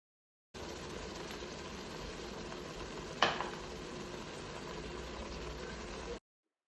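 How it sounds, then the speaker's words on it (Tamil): Mushrooms and masala sautéing in a pot, a steady low sizzle and stir with a brief clatter midway, continuous and moderately close. "மஷ்ரூமையும் மசாலாவையும் நல்லா சேர்த்து வதக்கிக்கோங்க."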